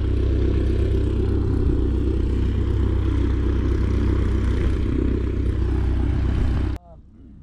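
A loud, steady light aircraft piston engine of about 205 horsepower, high compression, on a Van's RV-7, drones with heavy rumble and clatter close by, then cuts off abruptly near the end, leaving quiet.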